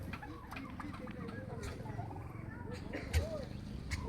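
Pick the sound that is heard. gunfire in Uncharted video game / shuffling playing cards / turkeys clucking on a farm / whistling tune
turkeys clucking on a farm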